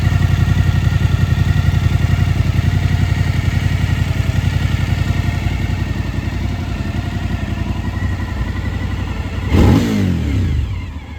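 A Suzuki DL 1000 motorcycle idles in a steady, close, loud throb, then its engine is briefly blipped near the end with a quick rise in revs before settling back.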